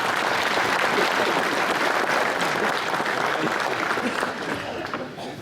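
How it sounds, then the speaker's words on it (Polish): An audience at a Polish cabaret show claps in dense, loud, sustained applause that holds steady throughout and fades slightly at the end. "I brawo dla wszystkich, bo to jest członek młodzieżowej drużyny pożarniczej"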